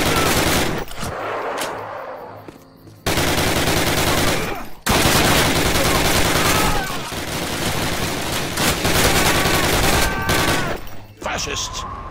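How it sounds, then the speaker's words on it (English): Machine guns in a Call of Duty game rattle out long, loud, dense bursts of automatic fire, broken by a couple of short pauses, with battlefield noise filling the background. "Sergeant, fire up those machine guns!"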